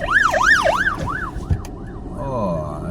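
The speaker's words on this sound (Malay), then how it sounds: "Ambulans limpas tu." An ambulance siren wails in rising and falling sweeps, loud at first then fading and shifting pitch as it passes and moves away amid traffic noise.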